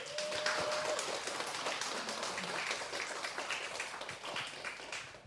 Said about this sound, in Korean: 우리 박재은 목사님, 교수님 나오실 때 우리 큰 박수로 환영하도록 하겠습니다.